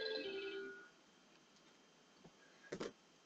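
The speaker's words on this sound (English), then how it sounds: "Sorry, that's my phone." A phone ringtone sounds briefly at the start with bright melodic tones, then fades to near silence broken by a few faint ticks and a short burst near the end.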